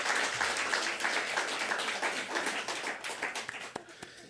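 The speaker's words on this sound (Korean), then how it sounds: "다시 한번 큰 박수 보내주시기 바랍니다." A church congregation claps and applauds steadily for several seconds after a children's worship performance at an Easter service, the dense clapping thinning out at the end into a few separate claps.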